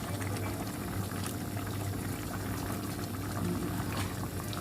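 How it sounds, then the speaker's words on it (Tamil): Egg curry (Jaffna-style muttai kulambu) bubbling at a steady boil in a pot, a continuous dense simmering crackle with frequent small pops, moderately loud and close, no talking. "முட்டை குழம்பு கொதிச்சு ரெடி ஆயிடுச்சு"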